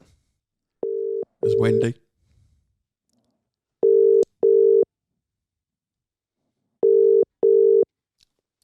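UK-style phone ringing tone heard on an outgoing call: two pairs of short double rings with a gap between, clear and steady, after a brief spoken word at the start.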